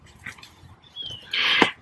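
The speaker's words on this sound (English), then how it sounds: "Sorry, the dogs are going crazy." A dog whines and yelps close by, a brief high whimper rising into a louder excited burst at the end.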